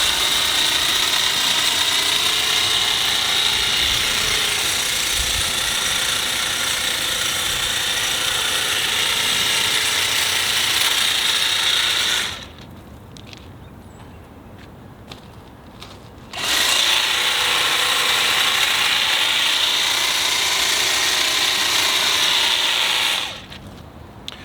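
A Milwaukee M18 cordless Quik-Lok articulating hedge trimmer cuts hedge growth with a loud, steady, buzzing chatter of reciprocating blades, stopping briefly around the middle before starting up again, then cutting off near the end.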